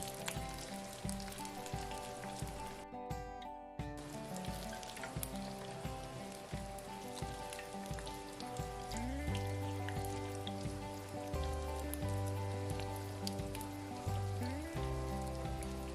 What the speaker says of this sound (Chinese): 打开中火慢炸就可以了。